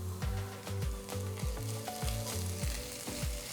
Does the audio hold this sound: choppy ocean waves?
no